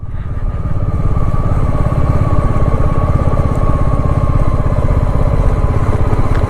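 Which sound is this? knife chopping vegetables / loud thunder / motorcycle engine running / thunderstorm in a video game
motorcycle engine running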